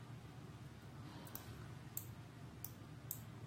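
Computer mouse clicks while selecting a slide in repair software: four sharp, quiet clicks spaced about a second apart over a low steady hum, with no talking.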